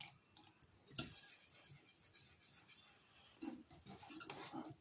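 Pancake batter is mixed with milk in a bowl: faint, irregular clinks and scrapes of a utensil against the dish, quiet and close, with no talking.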